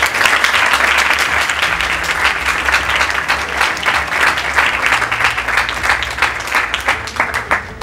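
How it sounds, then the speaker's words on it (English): Children at a school gathering clap for themselves: loud, sustained applause with rapid, uneven claps running for several seconds, a low hum beneath and no talk over it. "Can you clap for yourself?"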